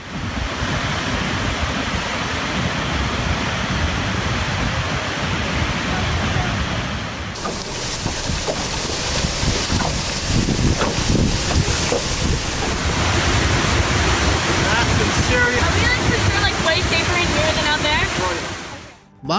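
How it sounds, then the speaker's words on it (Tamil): A waterfall pours red, soil-coloured water with a loud, continuous roar of rushing water and wind noise across the microphone, shifting in tone partway through. "இந்த அருவி தண்ணீர் எப்படி செம்மண் நிறத்துல கொட்டுதுன்னு பாருங்க."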